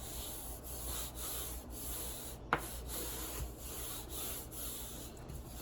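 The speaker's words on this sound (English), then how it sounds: "I just keep rubbing on there and making sure it's smooth." A craft surface being rubbed smooth, giving steady, rhythmic scraping strokes close up with one sharp tap partway through and no talking.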